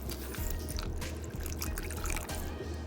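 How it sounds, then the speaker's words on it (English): A little water poured over ogiri, a fermented seasoning, while cooking ogbono soup in a village kitchen; a steady close trickle runs throughout with a low rumble beneath and no talk. "I'll put a little water on it"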